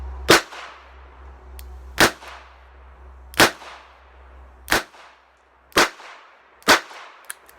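Six sharp gunshots from a Charter Arms .22 Pathfinder revolver, fired with several kinds of ammunition, crack out at a steady pace about every second and a half, each ringing briefly before the next, with no talking.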